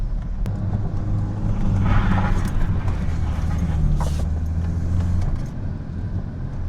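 Inside a moving Audi 80, loose items rattle and clatter over a steady low engine and road rumble, with irregular knocks and taps throughout, loud and close.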